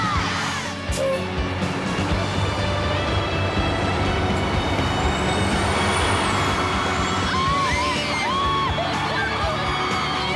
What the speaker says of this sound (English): Move that bus!